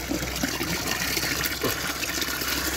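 Water pours steadily into a sheep water trough, a constant splashing gush heard close up and alone.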